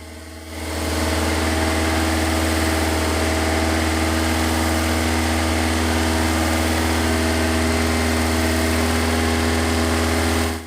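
A car engine runs steadily at idle and speed during an exhaust opacity test, a loud, constant mid-pitched drone with a deep low hum and vibration throughout.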